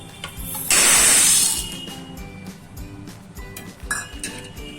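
Cleaned mung beans are poured into a bowl: a close, dense rattling rush lasting about a second, followed by scattered light clinks and small settling sounds.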